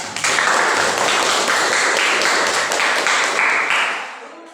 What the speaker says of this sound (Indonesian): silakan berikan tepuk tangan untuk kelompok Pancasila